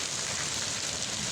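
Heavy rain pours down in a misty shower, giving a constant close hiss of drops on surfaces with no breaks and no talking.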